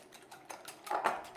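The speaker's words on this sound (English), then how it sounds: "So now all we have to do is beat our egg mix. With a whisk." A whisk beats an egg mixture for an omelette in a bowl, giving quick rhythmic tapping clicks that grow louder toward the end, close and fairly quiet.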